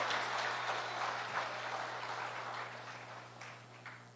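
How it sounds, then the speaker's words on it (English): Faint, distant applause from the audience at a Labour Party conference addressed by national leader Denzil Douglas, a soft continuous clatter over a low electrical hum, slowly tapering off. "Let us give them all tremendous applause for being here with us this afternoon"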